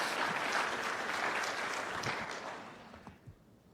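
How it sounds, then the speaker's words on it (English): A church congregation at First United Methodist in Port Orange gives warm applause, a dense round of clapping that fades out over a few seconds into near quiet. "Let's give him a round of applause and a warm welcome."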